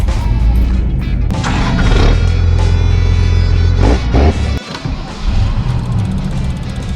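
Classic trucks lined up for a drag race, engines rumbling loudly at idle and revving in bursts, with a heavy low drone throughout and a brief dip before the noise picks back up.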